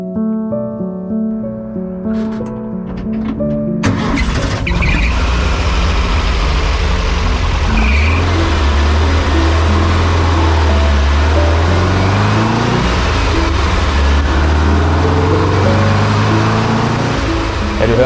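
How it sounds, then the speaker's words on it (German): Air-cooled Type 1 boxer engine in the rear of a VW T2A bus rumbling steadily at a loud, close idle, low and continuous with shifting pitch, preceded by a brief quieter stretch of clicks. "du hörst halt hinten Typ 1 luftgekühlter Boxermotor"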